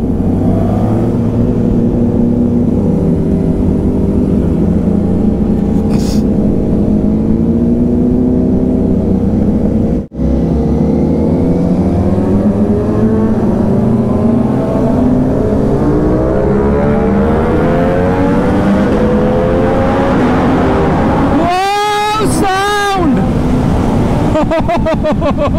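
BMW S1000RR and Kawasaki Ninja ZX-10R sport bikes revving loudly up close on a hill road, with a dense, sustained engine roar throughout that climbs and sweeps in pitch, with sharp high-rev bursts near the end.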